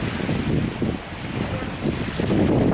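Wind gusts over the microphone while ocean surf rolls and washes at Sunshine Beach in Jamaica, a steady broadband roar that swells and eases.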